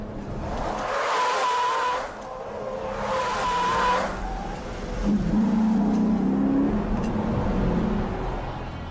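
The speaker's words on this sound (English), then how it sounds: "by cutting the wheel and shifting quickly into drive, the vehicle can spin around in less than 2 car lengths" A vehicle in a motorcade reverses, then cuts the wheel and shifts into drive to spin around in under two car lengths, with loud engine revving and tires skidding and squealing through the turn, no talk.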